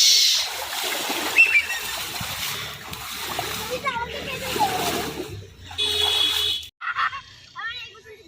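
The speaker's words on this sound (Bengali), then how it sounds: "সাঁতার কাট, সাঁতার কাট।" Splashing and slapping water from someone swimming in a village pond, with a child and an adult talking over the repeated close splashes.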